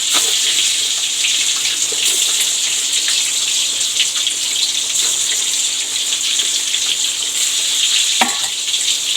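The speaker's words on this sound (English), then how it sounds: "This way I'll fry the eggs" Eggs frying in hot oil while making a Bihari-style egg curry, a steady loud crackling sizzle with occasional sharper pops and spatters, continuous and close with no talking.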